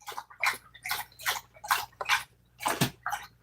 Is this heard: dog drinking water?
yes